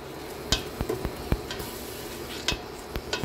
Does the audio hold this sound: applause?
no